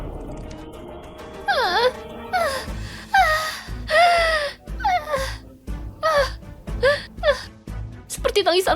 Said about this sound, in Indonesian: Seperti tangisan bayi.